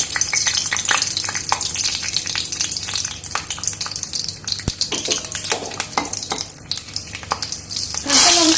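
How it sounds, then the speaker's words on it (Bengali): Two green chillies fry in hot oil in a wok for a Bengali ash gourd dish, giving a loud, close, crackling sizzle with scattered sharp spits and pops throughout. "কড়াই তেল গরম হয়ে গেলে এবার দেবো দুটো কাঁচা লঙ্কা"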